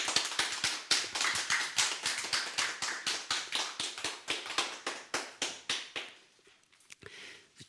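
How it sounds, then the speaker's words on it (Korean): Rhythmic hand clapping from a church congregation at a Korean Sunday worship service, steady near claps in unison for several seconds, slowing and thinning out toward the end, with no talk. "우리 한번 옆에 사람들 박수 한번 합시다."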